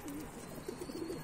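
Bango-breed pigeons give soft, low coos in a short burst, fairly faint against a rough outdoor background.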